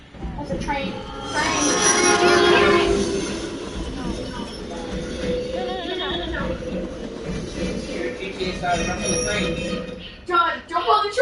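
Train passing in the video game Hidden Agenda, a rumbling rush of rolling wheels and clatter with metallic squeals, loud and sustained under excited talking voices.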